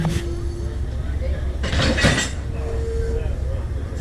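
Metallic clanks and a heavy jolt from passenger railcars being coupled, amid low rumbling rail-yard noise, with a brief whine and scattered clinks.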